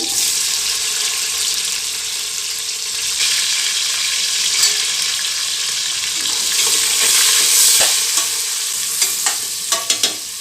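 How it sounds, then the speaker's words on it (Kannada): Onions frying in hot oil with whole spices for mutton biryani: a loud, continuous sizzle and crackle close at hand, stirred now and then, with a few sharp clinks of a utensil toward the end. "ನೋಡಿ ಈರುಳ್ಳಿ ಸ್ವಲ್ಪ ಫ್ರೈ ಆಗಬೇಕು ನೋಡಿ ಇಷ್ಟು ಫ್ರೈ ಆದರೆ ಸಾಕು"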